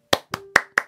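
Four crisp hand claps ring out close and loud, spaced about a quarter second apart, each a sharp isolated snap with a short tail, against an otherwise quiet background.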